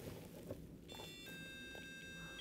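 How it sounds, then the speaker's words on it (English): A small alarm clock starts beeping after a battery goes in, a thin steady electronic tone that begins abruptly and holds continuously over faint room noise and handling sounds. "This is an alarm clock."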